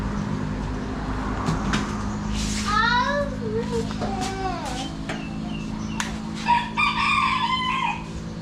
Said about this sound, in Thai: มันมาขันตอนนี้